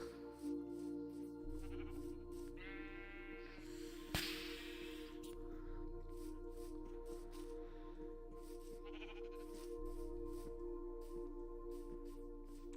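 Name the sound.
sheep bleating in the video game Minecraft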